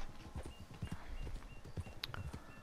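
Horse hooves clip-clop in the Red Dead Redemption video game, a steady run of close, hollow knocks at a walking pace, fairly quiet.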